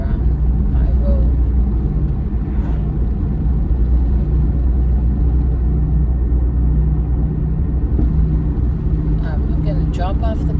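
A car speeding past on a rural home road, heard from inside another car as a steady loud low engine and road rumble with no distinct pass-by peak.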